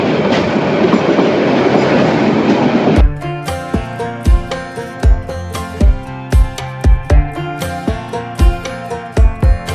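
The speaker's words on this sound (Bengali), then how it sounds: "দেখেন আরেকটা লোকাল ট্রেন আসলো আমাদের সামনে" A local train passes on the railway, its broad rushing roar giving way to a loud, close rhythmic clickety-clack of wheels over rail joints that keeps up steadily.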